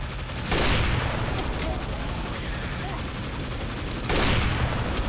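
Gunfire in the Team Fortress 2 Mann vs Machine game, played as Sniper: two loud bursts of rapid shots about four seconds apart, over constant game background noise.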